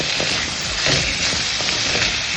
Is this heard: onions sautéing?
yes